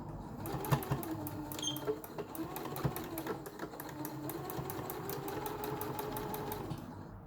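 A sewing machine runs in quick bursts of rapid needle strokes stitching fabric for a face mask, with short pauses between runs and a soft mechanical hum close by.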